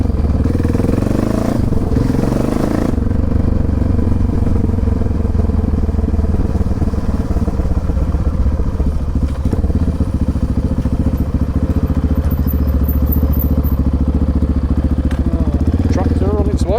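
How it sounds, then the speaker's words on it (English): A Honda XR650R four-stroke single-cylinder motorcycle engine thumps steadily while riding, loud and close with a deep low rumble, some clatter and wind buffeting throughout, rising briefly in revs near the start. "One of the nicest sounding 4-stroke thumpers out there."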